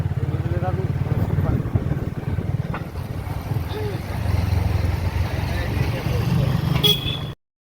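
A motorcycle engine drones steadily throughout as it rides along, with traffic around it and faint voices underneath.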